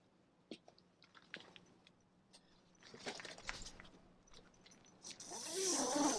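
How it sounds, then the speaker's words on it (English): Zippers on the bug screens of a 2022 Ram Promaster camper van are drawn closed in quick rasping pulls, close and fairly quiet, among soft rustling and fabric handling. "Close your zippers."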